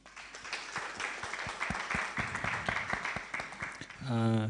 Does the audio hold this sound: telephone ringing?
no